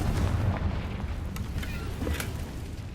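A Confringo fire spell blasts in the Hogwarts Legacy video game, a burst of booming, rumbling explosion noise with crackling debris that fades over a few seconds.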